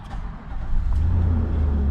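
An Infiniti QX80 engine starts and settles into a steady idle, a low rumbling drone that rises and holds close and loud after a brief softer start.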